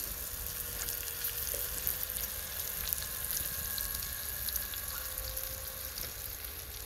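Gravy simmers in a fry pan resting on a trivet over a wedge fire pit outdoors, giving a steady, close sizzle and bubbling hiss across the whole stretch with faint clinks and crackles mixed in.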